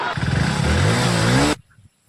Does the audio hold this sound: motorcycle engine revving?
yes